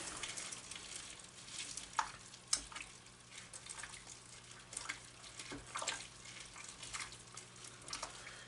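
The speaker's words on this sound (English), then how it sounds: "we have a special spoon right here to give this yet another mix" Spoon stirring a pot of chili mac, a soft, steady wet scraping and sloshing with a few sharper clinks against the pot, faint and close, with no talking.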